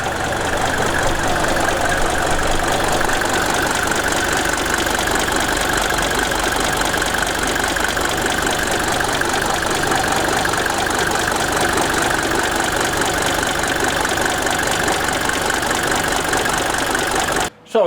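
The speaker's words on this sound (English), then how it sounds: "I really love how this late 70s diesel engine sounds. It runs super smooth." A late-1970s Mercedes OM617 80-horsepower diesel engine idles steadily and close by, with a smooth, even knocking rumble running throughout before cutting off abruptly at the very end.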